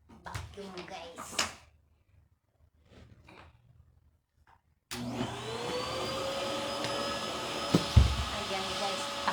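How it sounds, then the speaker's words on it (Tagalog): After some quiet indoor shuffling and a few soft voices, a vacuum cleaner starts abruptly and runs with a steady, loud whining drone, broken by a brief low thump near the end. "Tuloy ng vacuum guys."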